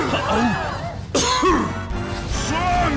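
A few harsh coughs and throat-clearing bursts, close and loud, with short pauses between them and no talking.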